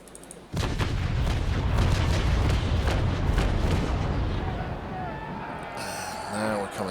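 Heavy ship cannon fire from the Ingermanland, a sailing warship in the Naval Action naval combat game: a dense, rumbling run of booming broadside shots that starts abruptly, sustains for several seconds, then fades beneath quieter sea and ambient sound.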